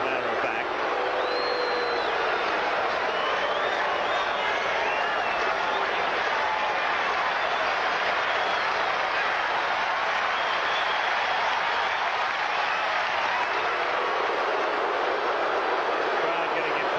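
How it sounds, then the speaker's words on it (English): Impatient crowd at a 1980 Astros-Dodgers baseball game in a stadium, a continuous broad roar with rhythmic clapping throughout, loud and sustained. "Crowd getting impatient."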